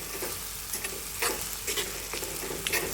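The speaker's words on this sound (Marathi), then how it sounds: "आता हे चांगलं भाजून घेते." Homemade black masala roasts in a hot pan for a cowpea curry, giving a continuous dry sizzle with irregular stirring scrapes and clicks up close. No voices.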